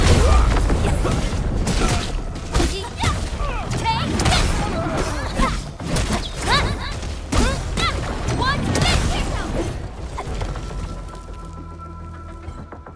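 Gunfire and mechanical clatter from the video game Arknights: Endfield, with loud bursts, cracks and impacts layered over a dense battle mix and spoken dialogue, trailing off into quieter ambience at the end.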